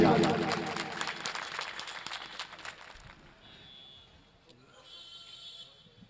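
An audience at a stage poetry recital breaks into dense, loud applause that fades away over about three seconds, leaving quiet room noise and faint high tones.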